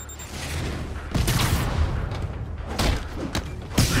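Rocket explosions boom in Marvel's Spider-Man video game, several heavy blasts and thuds landing in quick succession over a rumbling background of game combat.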